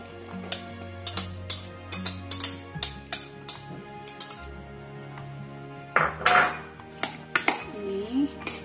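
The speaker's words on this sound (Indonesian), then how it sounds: "Ini saya pindahin ke sini karena nggak muat sini," Utensils clink and scrape against a bowl as cucumber, carrot and onion acar is mixed, with irregular sharp clatters and knocks close by and a steady hum underneath.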